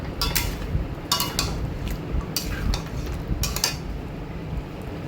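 Chicken roast with spices being stirred in a pan, a metal spoon scraping and clinking against the pan in repeated strokes over a low sizzle, close and moderately loud.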